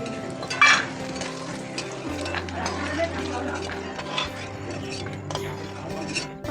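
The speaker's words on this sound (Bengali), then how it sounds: "সয়াবিনটাকে ভেজে নিচ্ছি।" Soybean chunks fry in oil in a wok for Bengali khichuri, giving a soft, continuous sizzle with occasional stirring clinks and scrapes while a voice talks over it.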